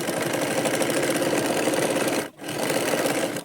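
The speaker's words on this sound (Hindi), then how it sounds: "इसको पलट के हम सिलाई लगाएंगे" Sewing machine stitching a blouse lining, a steady fast mechanical whir with a brief pause near the end before it resumes, close and continuous with no voices.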